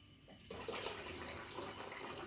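Water runs into a pot of homemade soup, a steady soft pouring wash that starts abruptly after a brief quiet moment and continues faintly to the end.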